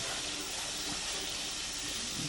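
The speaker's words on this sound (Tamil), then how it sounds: "ஒரு கை அளவு வந்து கொத்தமல்லி இதை போட்டு நீங்கள் வந்து ஒரு ten seconds to fifteen seconds வதக்கணும்" Handful of fresh coriander leaves sautéing in a pan for hotel-style mutton biryani, giving a steady, even sizzling hiss that holds at moderate level throughout, with no voices.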